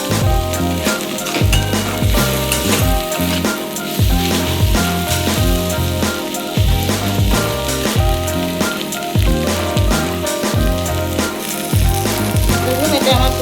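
Sajne shak (drumstick leaves) frying in a pan: a steady, close sizzle that runs the whole time with no breaks, under a tonal, music-like background.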